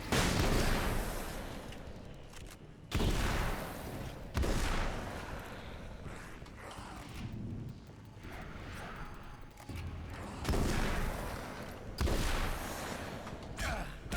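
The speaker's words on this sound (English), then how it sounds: "Flashbang." Loud booming blasts from a video game firefight, with repeated heavy bursts at roughly two-second intervals under a constant roar of gunfire as a flashbang grenade goes off amid enemies.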